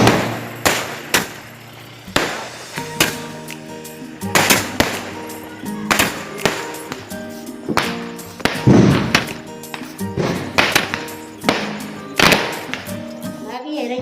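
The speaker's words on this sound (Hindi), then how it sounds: "पटाखों की आवाज़ आ रही है बहुत ज़्यादा" Diwali firecrackers pop and bang repeatedly, sharp loud bursts at irregular intervals, with people talking between the explosions.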